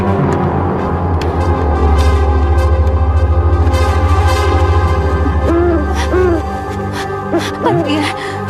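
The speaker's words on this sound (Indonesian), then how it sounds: "Maksudku burung hantu" An owl hoots several times in the background of a dim nighttime setting with a steady low hum, the calls soft and repeated toward the end.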